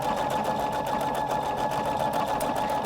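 Husqvarna Viking Designer Brilliance 80 sewing machine running decorative stitches, a steady fast needle chatter with a continuous motor hum, loud and close without any talking.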